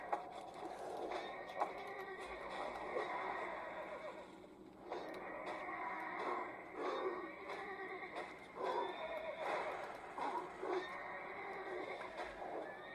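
Horses in World of Warcraft Classic whinny and neigh repeatedly in several drawn-out, wavering calls, fairly close and moderately loud, with brief gaps between them.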